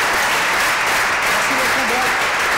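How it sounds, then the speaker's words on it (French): Applause from a crowd at a game finale in Lubumbashi, Haut-Katanga, a thick, loud, unbroken roar of clapping with voices faintly mixed underneath. "Alors on va applaudir ça."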